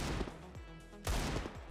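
Desert Eagle pistol shots in the CS:GO video game, two loud sharp reports about half a second apart, with a burst of layered gunfire and game noise between them.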